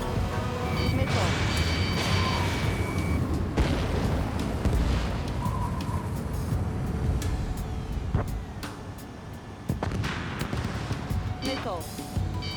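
Missile launches and blasts in the Ace Combat 7 flight game, a dense roar of low booming and engine rumble with several sharp transients, heard steadily over radio chatter and talking throughout.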